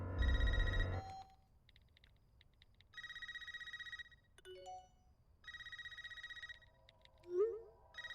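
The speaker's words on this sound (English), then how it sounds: "Don't answer the phone." Telephone ringing in a movie trailer: repeated electronic ring bursts separated by quiet gaps, joined by short beeps and a rising synthetic tone near the end, no speech over it.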